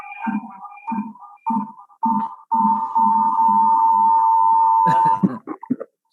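A mobile phone rings in a room during a national vocational school textile engineering competition, with several short repeated tone pulses followed by a long sustained electronic tone that cuts off as a voice begins speaking.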